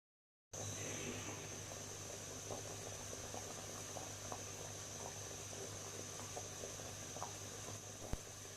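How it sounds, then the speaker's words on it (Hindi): Dried plums simmer in a pot of water, giving a faint, steady bubbling hiss with a few soft pops and one sharp click near the end, with no voices. "इसको मैं 10 मिनट के लिए बॉईल करूँगी इसी तरह ही पानी में डाल के"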